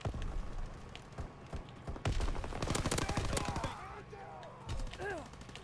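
Shotgun fire in the Call of Duty WW2 video game, a rapid scatter of sharp blasts clustered in the middle, fairly quiet overall, with other game sounds and a voice around the shots.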